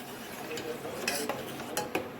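A spoon stirs tea with crushed ginger and cardamom in a pot, soft scraping and swirling over a faint simmer, with a few brighter clinks of metal against the vessel.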